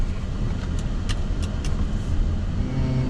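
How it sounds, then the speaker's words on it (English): A truck pulls around in Manhattan city traffic at a light, giving a steady, close engine rumble with a broad road roar and a few faint high clinks on top. "Truck pulling around here."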